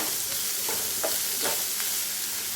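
Chopped onion is stirred through hot oil in a frying pan, giving a loud continuous sizzle broken by several quick scraping strokes of the spoon, close up and without talk.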